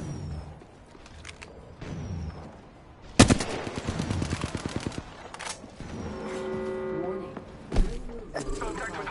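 Video game gunfire in the shooter Conduit: a loud opening shot, then a quick burst of rapid automatic rounds, with scattered shots and in-game voice announcements around it.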